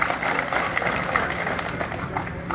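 A crowd at a farmers' protest gathering claps in steady, dense applause that fills the whole moment without a break.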